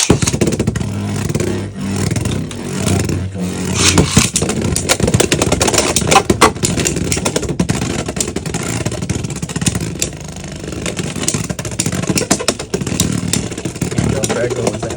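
Beyblade X spinning tops, including Rock Leone, clashing in a plastic stadium, with rapid scraping, clattering and metallic grinding throughout, loud and close, while a voice commentates over the battle.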